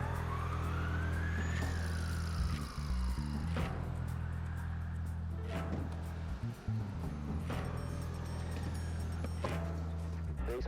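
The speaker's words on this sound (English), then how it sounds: "Moments later, an ambulance goes by." An ambulance siren passes on a city street, its wailing tone sweeping up and down over steady traffic and engine noise, heard from inside a parked car.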